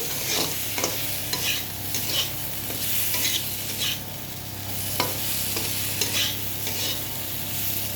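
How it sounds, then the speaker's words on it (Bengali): Cumin and coriander powder fry lightly in a pan with a loud, steady sizzle, broken by repeated spatula scrapes and stirring knocks at close range, with no speech. "আমি এবার এর মধ্যে জিরের গুঁড়ো ধনের গুঁড়ো দিয়ে দিয়েছি, হালকা ফ্রাই করে নিয়ে"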